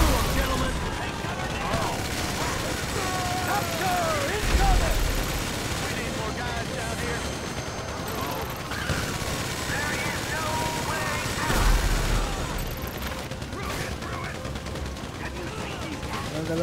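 Gunfire in the video game GTA 5, dense bursts of shots and rumbling blasts running steadily throughout, with louder peaks near five and twelve seconds.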